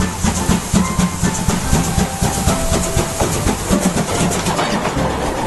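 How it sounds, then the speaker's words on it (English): A toy Thomas train runs in a rapid clickety-clack rhythm with hissing bursts, loud and close, steady throughout the few seconds with no talk. "this is a Thomas train."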